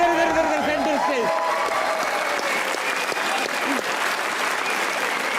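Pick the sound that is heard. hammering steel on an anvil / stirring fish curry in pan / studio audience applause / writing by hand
studio audience applause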